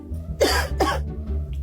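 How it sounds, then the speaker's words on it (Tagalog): A person gives two sharp, close coughs in quick succession, then a quieter throaty sound, over a low background hum. "Umubo ka."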